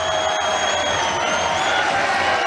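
Tennis crowd at the 2023 Australian Open match between Andy Murray and Thanasi Kokkinakis cheering and applauding in a dense, steady roar with scattered whoops, loud and continuous throughout.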